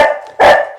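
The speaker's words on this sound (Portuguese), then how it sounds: "as cachorras estão fazendo festinha para alguém abanando o rabo e latindo" Female dogs bark excitedly at home while greeting someone, two loud, close, harsh barks with the second burst stronger, and no talking.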